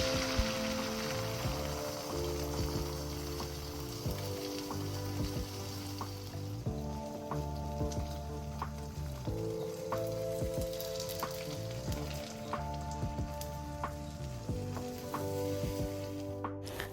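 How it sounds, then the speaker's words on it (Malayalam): Omelette batter of egg and coriander sizzles in a spoonful of hot coconut oil in a pan, a continuous even hiss that runs the whole time beneath a looping background music bed. "ചൂടായാൽ നമുക്ക് ഈ ഓംലെറ്റിൻ്റെ ബാറ്റർ അതിൽ ഒഴിച്ചു കൊടുക്കാം"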